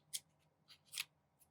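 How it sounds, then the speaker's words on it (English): Several quick, crisp snips of scissors cutting crepe paper sound close and faint, three or four short bursts in an uneven rhythm. "let me cut these up into slightly smaller pieces"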